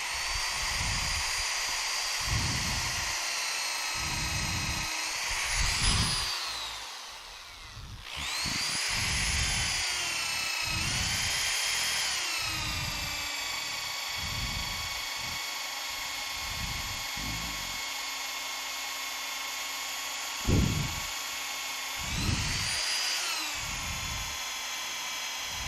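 A power drill bores deep into wood for a square turned mallet: a loud, close, steady whine running in long stretches, with a short stop near the middle and brief pauses and pitch shifts as the bit bites.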